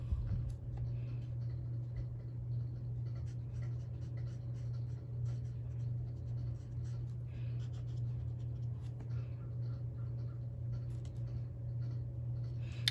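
Copic marker with a super brush nib coloring on paper, a faint soft scratchy rubbing of the felt tip with light ticks, steady and quiet against a low background hum.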